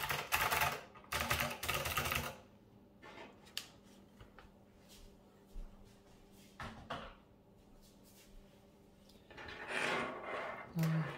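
Mechanical keyboard typing on a dense table, with bursts of deep thocking keystrokes in quick clusters, pauses with faint scattered clicks between, and a final flurry of keystrokes.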